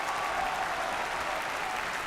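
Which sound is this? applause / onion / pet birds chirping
applause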